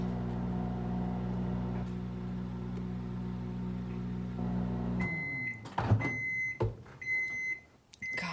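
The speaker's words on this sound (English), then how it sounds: "do you really put eggs in the microwave?" A microwave oven heating eggs hums steadily for several seconds, then stops and gives a series of short, high electronic beeps with a door clunk between them, no talking.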